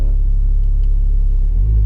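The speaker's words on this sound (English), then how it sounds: "I want to hear the engine sound" Steady, loud low engine rumble from a Porsche 911 Turbo S (560 hp) idling or cruising, heard from inside the cabin, swelling slightly near the end with no talk.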